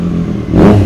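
A 2022 Triumph Street Triple RS with a newly installed aftermarket exhaust idles nearby, rising into a short, loud swell of engine noise partway through.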